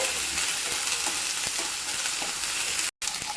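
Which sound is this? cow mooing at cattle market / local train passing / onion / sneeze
onion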